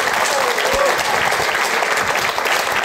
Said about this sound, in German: Begrüßen Sie mit einem grossen Applaus unseren Kochcoach, den Stevie Gut.